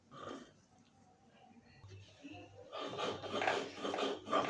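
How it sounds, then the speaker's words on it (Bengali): Dried red chillies ground by hand on a flat grinding stone, soft rasping strokes that start sparse and quiet, then turn into louder, rapid scraping and rubbing near the end, close up with no talking. "তো প্রথমে মরিচগুলো বেটে নিলাম।"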